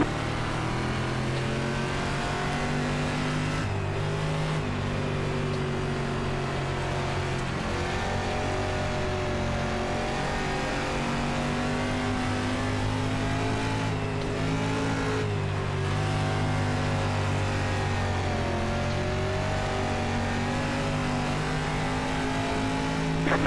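Race cars in the game GTA drone steadily through a long stretch of engine noise, their revs rising and falling as they accelerate, with a continuous loud hum and no pauses.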